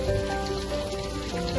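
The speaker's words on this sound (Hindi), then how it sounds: "बहुत ही ज़बरदस्त बारिश हो रही है" Heavy rain pours steadily and close by, a dense continuous patter on surfaces with no voices over it.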